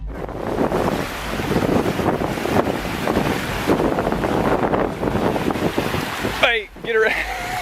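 Ocean waves wash onto a beach at Isle of Palms, South Carolina, a steady broad roar of surf mixed with gusty wind buffeting the microphone, with a brief shrill voice rising near the end.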